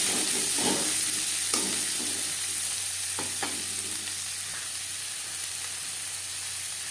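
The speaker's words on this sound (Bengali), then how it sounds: "মাছ ভেজে নেওয়া তেলে দিয়ে দেবো পেঁয়াজ কুচি।" Chopped onions crackle and sizzle in oil left over from frying rohu fish, a steady loud hiss broken by occasional sharp pops and a few utensil knocks, with no talking.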